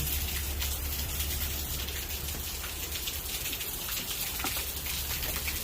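Constant moderate rainfall patters and hisses across a garden, an even wash of drops with no talking.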